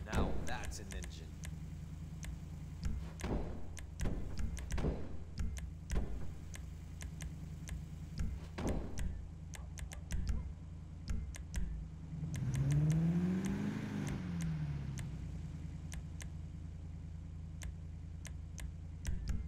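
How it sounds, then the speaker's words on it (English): In GTA Online, the engine of a Benny's-upgraded Tornado gives one brief rev midway through, set among quiet repeated menu ticks and clicks, with a voice talking at times. "An engine."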